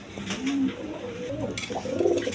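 A pair of large Rasgolla pigeons, a male and a female, coo in soft, low, rolling phrases close by, with a couple of distinct coo calls standing out against quiet background noise.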